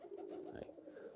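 Pigeons in a loft give soft, low cooing, a faint murmuring coo that rolls on steadily for about a second with no other sounds.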